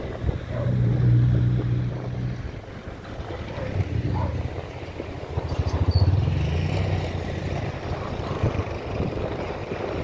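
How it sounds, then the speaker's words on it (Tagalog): Strong wind by a river in Barangay Looc, Calamba City, buffets the microphone with a loud, steady low rumble, gusting and swelling throughout, with faint river water noise beneath. "napakalakas ng hangin dito"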